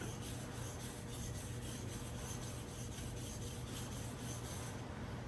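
Kitchen knife sharpened on a wet whetstone, giving a continuous soft gritty rubbing of steel on stone, quiet and close, with no speech and a slight drop at the very end.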